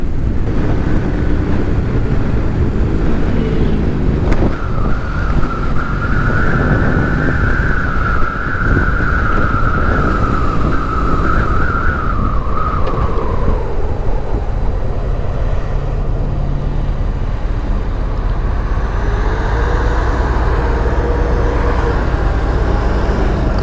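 Ride aboard a 2005 BMW R1100S Boxer Cup Replica motorcycle on the Blue Ridge Parkway, a loud continuous boxer engine drone under heavy wind rush, with a rising and falling engine tone as it accelerates.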